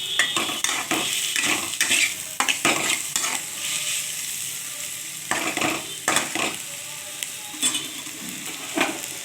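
Onions with a pinch of salt fry in a pan, sizzling softly while a spoon or spatula stirs and scrapes the metal in repeated bursts, close up and with no voices.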